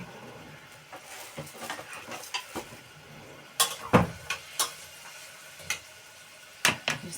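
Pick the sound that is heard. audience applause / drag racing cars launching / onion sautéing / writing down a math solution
onion sautéing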